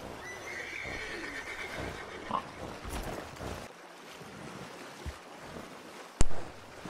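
A horse neighs and whinnies while standing in water in the video game Red Dead Redemption 2, its cries rising over a steady wash of splashing and a few hoof sounds, with a sharp loud burst near the end.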